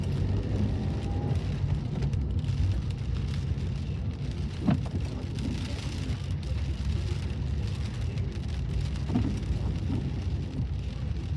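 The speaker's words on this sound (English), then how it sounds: "obviously, it's raining." Steady rain hiss fills the background at Blackpool seafront near Central Pier, with a constant wash of drops and distant traffic rumble, no voices.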